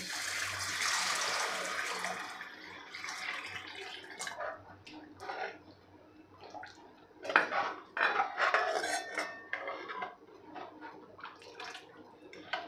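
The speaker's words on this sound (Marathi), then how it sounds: "आता इथे मी पाणी घालणार आहे गरम पाणी।" Hot water pours steadily into a pan of egg masala curry for a couple of seconds, followed by clinks and scrapes of a utensil against cookware, fairly close.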